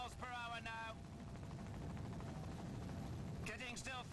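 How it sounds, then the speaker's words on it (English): A helicopter filming a 1995 offshore powerboat championship race at Burnham thrums continuously with a broad, low rotor and engine roar, while a commentator talks over it at the start and end. "the ground speed on the helicopter over 80 miles per hour now"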